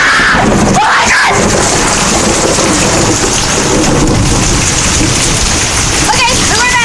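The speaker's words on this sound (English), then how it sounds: "It's raining." Steady heavy rain pours down throughout, with rolling thunder rumbling underneath and a few brief scattered sounds near the end.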